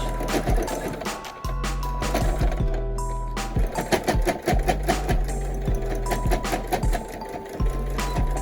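A sewing machine runs a seam across a pleated rectangular fabric face mask, its busy mechanical stitching steady and close, with short stops and restarts breaking the run.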